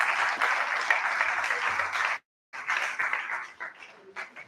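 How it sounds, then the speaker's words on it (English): Sustained audience applause at an annual in-house review and planning meeting, honoring the chairperson: dense, steady clapping that breaks off into a brief silence, then resumes more raggedly and thins toward the end. "Please, can we give the chairperson another round of applause,"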